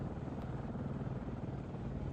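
An attack helicopter in the video game Arma 3 produces a continuous low rotor drone with a rough, pulsing rumble, steady and fairly distant-sounding, with no speech.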